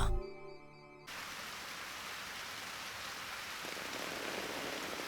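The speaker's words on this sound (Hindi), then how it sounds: "बारिश होने लगी।" Steady rain falls as an even, close hiss that fills the scene after a brief burst of music at the start and grows slightly heavier toward the end.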